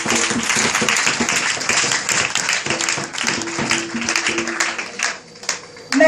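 A church congregation claps and applauds the Lord, a dense, loud burst of many hands with voices mixed in, fading briefly near the end.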